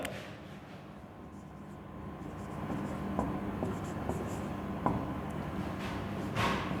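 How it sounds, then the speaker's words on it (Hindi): Chalk scraping and tapping across a classroom board in a Hindi grammar lesson, steady soft strokes with a few sharper taps, moderately close, with no talk over it. "अब अगला नियम लिखते हैं"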